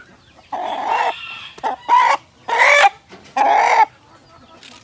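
Big, heavy, aggressive fully matured roosters being held by the neck cluck and squawk loudly at close range in four or five harsh bursts separated by brief pauses.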